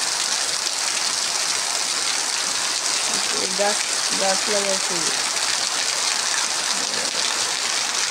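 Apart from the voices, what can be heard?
heavy rain falling on a tin roof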